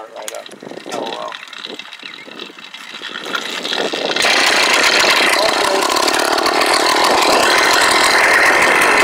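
A small two-stroke motorized bicycle engine sputters and then catches around midway, settling into a loud, steady buzzing idle after a few quieter moments with faint talk.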